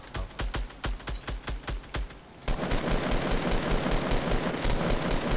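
Rapid video game gunfire, loud and close: a string of sharp shots in an even rhythm for about two seconds, then a dense, sustained barrage of overlapping fire.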